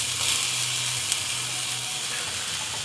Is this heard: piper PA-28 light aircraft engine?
no